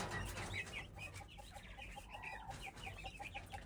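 A flock of chickens clucks continuously, a busy chorus of short, repeated clucks over a low background hum.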